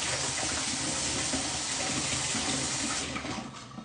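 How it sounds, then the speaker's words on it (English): Running tap water pours steadily into a sink as a whisk is rinsed under it, a loud, continuous close-up rush that eases off slightly at the very end. "I'm gonna rinse that off."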